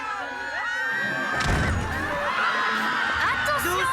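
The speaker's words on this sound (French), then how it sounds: "on crie vraiment beaucoup dans cette école." Children shouting loudly at a school in an animated cartoon, a dense wash of excited yelling and cheering voices with a sharp burst in the middle, layered under a talking voice.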